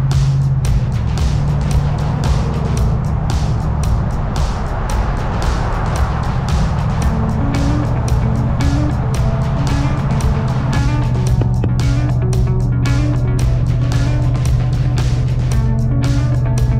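A truck with a Ford 7.3-litre gas Godzilla engine and 3.55 gears towing an RV on the road: a loud, steady engine drone and road rumble that continues without a break and with no talking.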